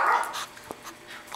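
A small dog at a doggy daycare lets out a short, soft whimper or yip near the start, followed by a brief quiet yelp, close by with faint room noise.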